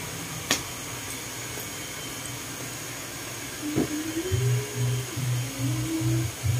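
A blower dries a foot during an ingrown nail pedicure, starting as a steady background whir, then rising into a louder humming drone that pulses in a regular on-off rhythm.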